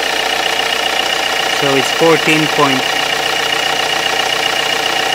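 A car engine idles with a steady, even hum, while someone says a couple of words partway through.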